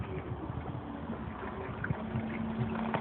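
Diesel fuel from a BMW E39 fuel line gushes steadily into a bottle while the fuel pump runs, a constant close hiss of flowing liquid over a low, even pump hum.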